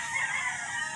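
Rooster on a game farm in Silang, Cavite, heard as a faint, sustained crowing call that fills the clip, slightly distant and alone with no talk over it.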